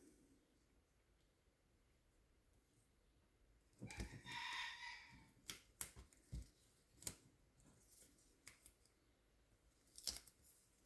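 Scissors snip through card paper for a handmade pull-tab scrapbooking card: a few close, crisp cuts and a longer rasping slice, with quiet pauses between them.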